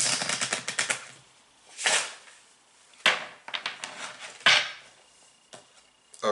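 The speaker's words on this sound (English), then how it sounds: "Alright, Al, one more shuffle and a cut." Playing cards riffle and snap in quick rattling bursts, with a few sharp slaps between pauses, close by and without speech.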